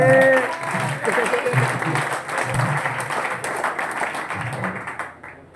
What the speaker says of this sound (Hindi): गुरु के लिए तालियां बजाओ जोर से